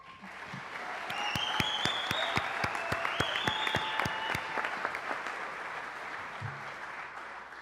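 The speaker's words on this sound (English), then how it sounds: "Please join me in another round of applause for this group." An awards-ceremony audience applauds a group of honorees, with clapping that swells after a second and holds steady at moderate loudness. Distinct individual claps sound close by, over a faint whistling tone.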